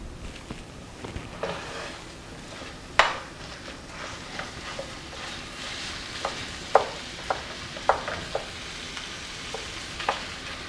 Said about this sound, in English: So let me get the hamburger started.